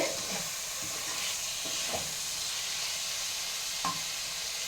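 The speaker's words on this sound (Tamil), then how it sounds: "கொஞ்சம் முக்கால் தீ வச்சு வதக்கணும்" Ingredients for cashew rice sautéing in a pan over a medium flame, a steady close sizzle with a few soft stirring scrapes, no voices.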